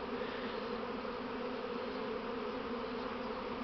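A second honeybee swarm taking flight outdoors, a continuous dense buzzing hum that stays even and moderately loud the whole time with no voices.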